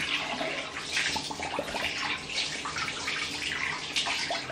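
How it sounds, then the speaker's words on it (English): Tap water runs and splashes while a face is rinsed at a sink, a continuous close, moderately quiet gush with irregular splashy surges from hands scooping water. "Now I'm gonna rinse my face."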